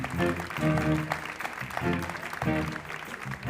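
Big band concert crowd clapping steadily, a dense continuous wash of applause filling the room while a presenter keeps talking on top of it.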